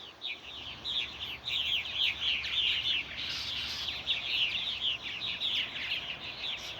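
Fledgling purple martins come in to roost and call steadily, a dense chorus of many overlapping high chirps and chatters, continuous and fairly close, with no other sounds over it.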